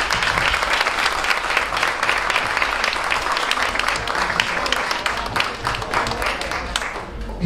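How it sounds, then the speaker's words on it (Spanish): Audience applause for a stand-up comedian at a comedy show: dense, steady clapping from a full crowd that stays loud and even for the whole stretch, with no voices over it. "Reciban con un fuerte aplauso"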